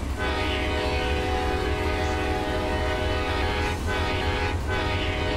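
Amtrak passenger train in the Run 8 railroad simulator, running steadily with a loud, continuous diesel engine drone and rail rumble, and a brief horn-like swell near the end; no talking.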